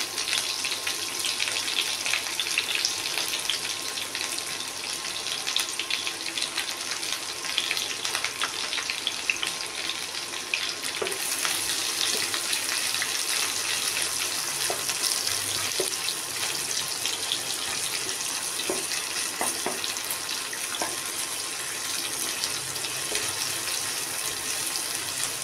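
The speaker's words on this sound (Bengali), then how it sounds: "এবার পেঁয়াজটা অনেকটাই ভাজা হয়ে গেছে" Chopped onion sizzles steadily in hot oil in a pan over whole spices for a pointed gourd curry, a dense, even crackle that runs unbroken for the full stretch with no talking.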